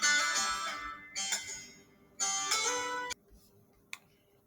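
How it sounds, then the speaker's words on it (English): A phone rings with an incoming call during a maths lesson: a bright electronic tone sounds in three bursts, moderately loud, followed by a faint short blip. "Be careful, I'm getting a phone call."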